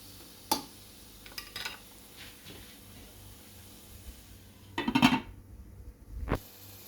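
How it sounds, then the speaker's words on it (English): Tomatoes go into a hot pan for homemade shakshuka, a few sharp clatters of utensil and pan over a low, steady sizzle, with a louder burst of frying and stirring near the end. "Now adding the tomatoes."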